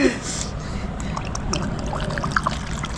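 Green apple flavoured liquid pours and trickles steadily into a hollowed watermelon, with a continuous splashing gurgle under soft background noise.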